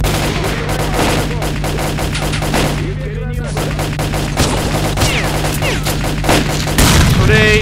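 Dense, loud automatic gunfire and shooting in the game S.T.A.L.K.E.R.: Call of Pripyat, rapid overlapping shots crackling almost continuously, with a brief lull midway and a heavier burst near the end.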